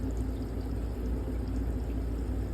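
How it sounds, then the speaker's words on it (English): Water rushes steadily into the piping of an APEC ROES-50 reverse osmosis filter system after a filter replacement, a continuous low hiss and gurgle with no pauses. "I can hear water rushing into the system."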